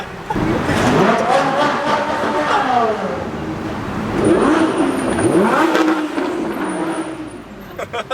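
An Audi R8 V10 Plus engine revs up and down in sweeping rises and falls with a throaty exhaust note, heard close from the road, with voices talking over it.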